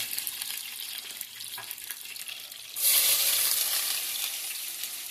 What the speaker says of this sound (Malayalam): അപ്പോൾ ഉള്ളി അതിലേക്ക് ആഡ് ചെയ്യണം